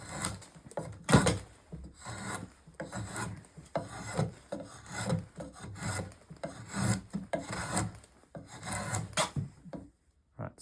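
A Pfeil drawknife, held bevel down, shaves wood in a series of rough rasping strokes that are loud and close, repeating steadily with short pauses between pulls.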